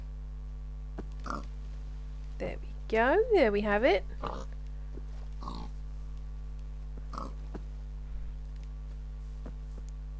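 A warbling, synthetic, glitchy pig oink in Minecraft rises and falls briefly amid steady electrical hum, with a person talking on and off.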